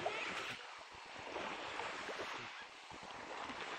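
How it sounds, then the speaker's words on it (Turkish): Boat wake waves wash against the shore of a sheltered cove, a soft continuous rushing with some wind, faint and alone. "Vay, teknenin dalgasına bak."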